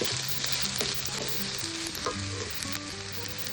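Cabbage bhaji for an Aagri-style dish is being stir-fried in a hot pan, making a loud, continuous close-up sizzle with low tonal clatter and scraping from stirring and no voices.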